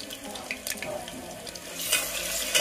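Ginger garlic paste and curry leaves crackle and sizzle in hot oil, a steady close frying hiss that swells toward the end.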